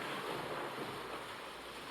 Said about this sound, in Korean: 갑자기 하늘에 먹장 같은 구름이 몰려들더니 사나운 비바람이 치기 시작했어요